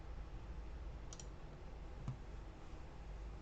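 A couple of faint, crisp computer mouse clicks sound in a quiet room while working in Fusion CAM software, spaced about a second apart over low background hiss.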